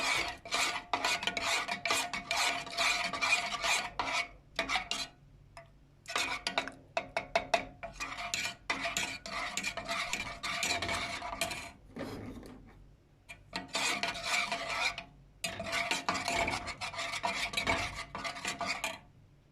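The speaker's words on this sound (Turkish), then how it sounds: "İyice erimeye başladı çikolatalarımız. Karıştırdıkça kıvam almaya başladı." Melting chocolate is stirred into silky milk pudding in a pot, giving a close, continuous run of utensil scraping and clinking against the pot in uneven bursts with short pauses.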